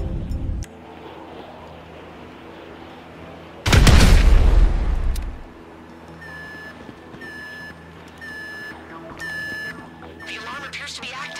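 A loud, close explosion bursts out during a GTA 5 bureau raid, a sharp blast with a rumbling tail lasting over a second, followed by beeping electronic tones and game ambience.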